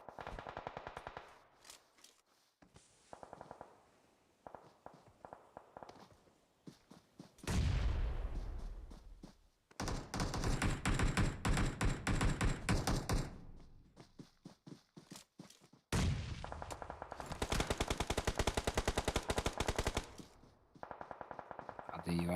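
Gunfire in a battle royale shooter during a tournament final, with long rapid automatic bursts and scattered single shots alternating with quieter gaps and soft footstep-like clicks, a commentator talking over part of it.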